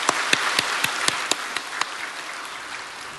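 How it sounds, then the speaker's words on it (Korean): A church congregation at a Friday late-night revival service applauds in encouragement and blessing, a dense, steady wash of clapping with a few sharper claps standing out early, then evening out and fading slightly. "우리 같이 격려와 또 축복의 박수하도록 하겠습니다"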